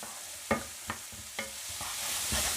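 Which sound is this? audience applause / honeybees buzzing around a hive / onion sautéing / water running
onion sautéing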